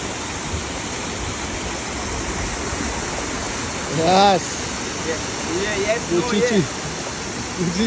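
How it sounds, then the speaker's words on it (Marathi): A waterfall roars as a steady, broad rush of falling water close by, with voices speaking over it in the second half. "वॉटरफॉल एक नंबर वॉटरफॉल आहे"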